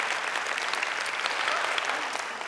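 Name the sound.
audience applause at a conference talk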